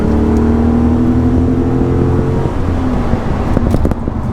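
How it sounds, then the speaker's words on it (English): An all-wheel-drive HSV Coupe 4 accelerating hard through a long first gear on an open road, the close, loud engine drone rising steadily in pitch before easing off near the end. "let's put our foot down a bit. Quite a long first gear."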